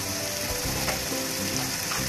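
Onion, tomato and chili-powder masala sautéing in a pan for a chicken dum biryani, giving a continuous dense sizzle and crackle. It stays steady and close throughout, with no voice.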